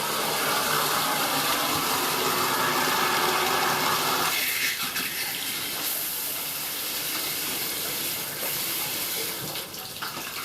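A household tap in an upstairs bathroom runs with a steady broadband rush of water, loud and close, then drops to a quieter, thinner flow partway through as the supply changes.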